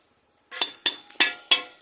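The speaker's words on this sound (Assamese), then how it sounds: "এয়া বাচন বৰ্তন এওঁলোকে বনাই আছে" Metalworkers hammer bell-metal utensils, giving about five sharp ringing metallic strikes in an uneven rhythm, close and fairly loud after a moment of silence.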